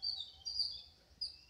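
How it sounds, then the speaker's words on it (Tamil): Small birds chirp outdoors among flowering shrubs near a temple in Jaffna, Sri Lanka, giving high, thin calls in short bursts, faint and distant, with no talk. "குருவி சத்தங்கள்லாம் பல கேட்குன்ற."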